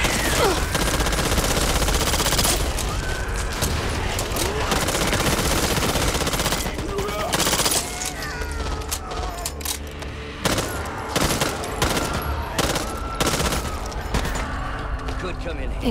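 Rapid automatic gunfire blazes through a fight in the zombie shooter Back 4 Blood, with dense bursts up front giving way to scattered single shots and short volleys, while voices talk over the shooting.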